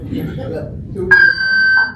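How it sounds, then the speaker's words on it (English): A steady electronic fire alarm tone sounds for under a second, cutting in after a murmur of low voices at a forum. "that sounds like fire alarm"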